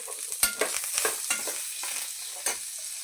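A coconut chutney tempering with curry leaves and tamarind is stirred in a pan, giving a soft sizzle broken by a few sharp spoon scrapes and clinks against the metal, close and quiet.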